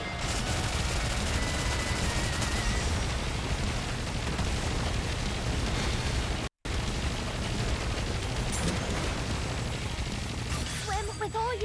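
Dense, continuous gunfire and explosions from a naval battle in a mobile video game, loud and unbroken under music, with one brief dropout midway.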